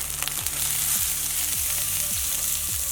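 Two salmon pieces frying skin side down in a pan with lemon, a dense continuous sizzle with faint crackles throughout, close and with no talk.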